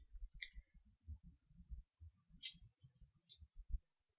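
Three sharp, faint mouse clicks spaced apart while resizing a canvas in Paint.NET, heard over a low background rumble.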